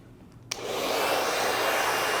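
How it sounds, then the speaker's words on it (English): A handheld hair dryer switches on with a click and settles into a steady, loud, close whoosh of airflow while blow-drying hair from roots to ends for volume, with no talking over it. "We're also gonna dry always roots, mids, then ends."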